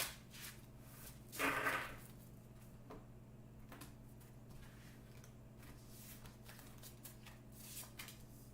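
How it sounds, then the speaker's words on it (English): A deck of tarot cards gets one quick riffle shuffle, a short burst of fluttering card noise near the start, followed by quiet handling clicks over a low hum. "One more good shuffle."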